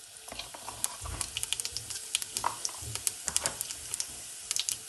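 Cumin seeds sizzle in hot oil in a large pan, a faint crackling of small sharp pops scattered irregularly over a soft frying hiss, with no talk.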